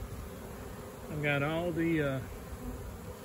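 Honeybee swarm buzzing during a hive transfer into a new box, a steady close drone under a voice speaking briefly in the middle.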